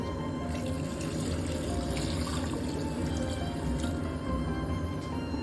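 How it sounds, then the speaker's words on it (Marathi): Water splashes steadily into a pan of crab masala coated in spice paste, a continuous close pour lasting several seconds with no talking. "आता आपण याच्यामध्ये थोडं पाणी टाकणार आहोत."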